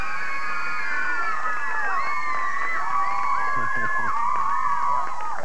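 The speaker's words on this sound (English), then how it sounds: "they brought back their cheering squads, and this is all their family" A large crowd of family members cheers, whoops and shouts at a 1990 kids' quiz show semifinal, steady loud noise all the way through with high excited voices on top.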